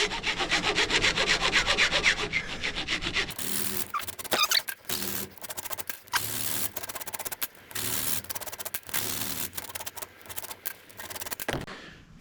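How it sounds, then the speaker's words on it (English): Round file rasps on cut metal pipe ends for a bike stand, a steady close scraping at first, then rhythmic back-and-forth strokes with brief pauses. "Let's just get the file on these and straighten them up a bit."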